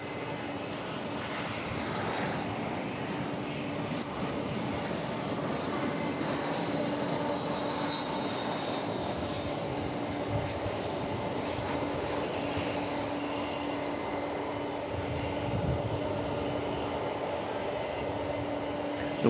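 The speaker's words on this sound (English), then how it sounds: "Finally, we get something arriving here on Runway DFW." A jet airliner arriving on the runway at DFW Airport rumbles in a steady, broad engine roar with a faint whine, sustained and moderately loud outdoors with no one speaking.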